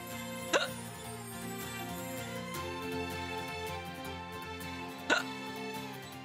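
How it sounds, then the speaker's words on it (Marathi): A person hiccups twice, well apart: two sharp, abrupt catches of breath over soft, steady background music. "अगं उचकी आली मला."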